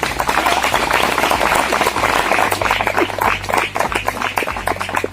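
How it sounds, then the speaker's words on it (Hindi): Loud sustained applause from an audience at an event, dense continuous clapping throughout with a low hum underneath and no clear speech. "उनके लिए एक जोरदार ताली होना चाहिए।"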